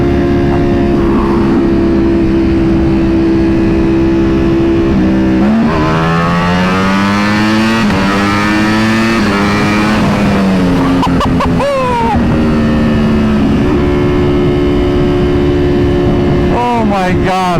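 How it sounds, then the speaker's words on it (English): A Ducati Panigale V4 motorcycle engine revving hard and dropping down through the gears, pitch swooping up and down with sharp blips, loud and close, with someone talking over it. "Oh, the downshift. Right there, first gear."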